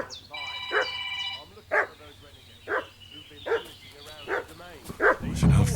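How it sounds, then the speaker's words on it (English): A dog in the video game Kingdom Come Deliverance 2 barks steadily, about six loud, evenly spaced barks over game music, with some yelping squeals mixed in near the start. "What's that dog making such a fuss about?"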